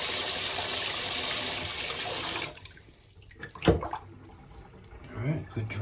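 Water rushing steadily from a bathtub tap while a new water service is flushed through the pipes of a 120-year-old house, then cutting off to quieter gurgling drain sounds and a voice speaking.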